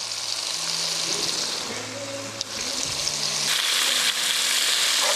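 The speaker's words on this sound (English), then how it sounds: "we're gonna get the rest of this meat cooked up" Steak pieces for pepper steak fry in a hot pan with a steady, close sizzle, interrupted by soft stirring scrapes and clatter.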